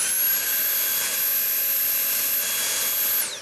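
A Dyson V8 cordless vacuum with a freshly replaced battery runs with no nozzle fitted, producing a loud, continuous high-pitched motor whine and rushing airflow that holds steady, dips briefly, then cuts off sharply at the end.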